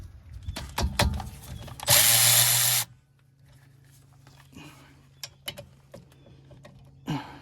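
A power tool runs one loud, close burst of about a second, loosening a 12 mm rear brake caliper bolt on a Honda Accord, amid clanks and handling noises in a garage.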